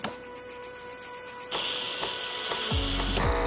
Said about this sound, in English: We're going to go ahead and just purge.